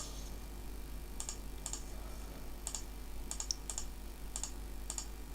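Calculator keys are tapped one by one while entering numbers for a wind calculation: about ten sharp, light clicks, spaced irregularly over a quiet, steady hum, with no talking.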